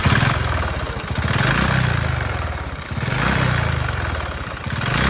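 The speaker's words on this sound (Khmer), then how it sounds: "ម៉ូតូគាត់ជាប្រភេទម៉ូតូ អូសរមាក់" A motorcycle that tows a heavily loaded trailer runs nearby, its engine note a steady mechanical clatter that swells and eases in slow repeated waves of revving, loud and alone.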